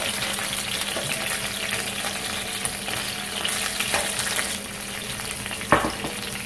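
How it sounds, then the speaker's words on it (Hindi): Marinated surmai fish sizzles steadily in a pan with golden-fried garlic, a dense crackling fry with a few light clinks and a brief louder spatter near the end, no voices. "जैसे ही मेरा गार्लिक गोल्डन हो गया अब मैं इसके लिए जो मेरी मैरिनेटेड फिश है वो डाल दूँगी"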